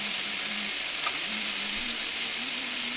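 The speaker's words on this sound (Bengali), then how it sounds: "এবারে আমি ভেজে রাখা ফুলকপি আর আলুগুলো এই মশলাতে দিয়ে দিচ্ছি, দিয়ে একটু ভালো করে কষিয়ে নেব" Fried cauliflower and potatoes sizzle steadily in a spice paste, a continuous close frying hiss throughout with no talking.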